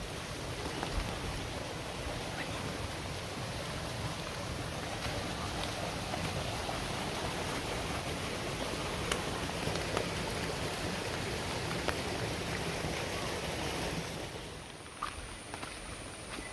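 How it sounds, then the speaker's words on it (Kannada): Light monsoon drizzle falls in the Western Ghats near Sirsi, a steady soft hiss of fine rain that runs evenly throughout and thins slightly near the end. "ಸಣ್ಣದಾಗಿ ಚಿಟಿ ಚಿಟಿ ಅಂತ ಮಳೆ ಹೊಯ್ತಾನೆ ಇದೆ"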